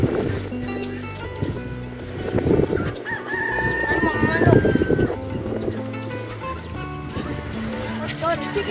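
Chickens cluck and a rooster crows at Rabbiton, a nature park in Pamplona, Philippines, heard at moderate distance under lively talk from people nearby.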